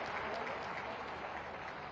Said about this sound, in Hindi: आप सबकी तालियां अगर इस अवसर पर हो जाएंगी तो इसकी शोभा बहुगुणित होगी।